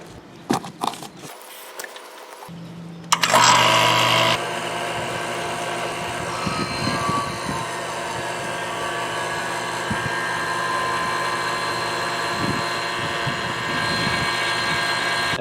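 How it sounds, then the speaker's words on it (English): A vacuum pump evacuating the AC system of a 2012 Hyundai Elantra during a discharge hose replacement starts up after a few clicks and handling noises, then runs as a loud, steady, close mechanical drone. "The next step is to vacuum the system down."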